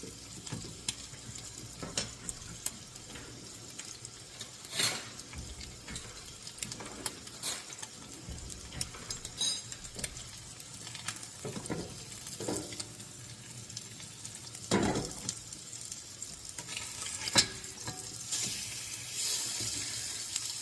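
Halibut seasoned with salt and pepper sizzles steadily in a hot pan, broken by repeated sharp scrapes and taps of a utensil against the pan, with no talk.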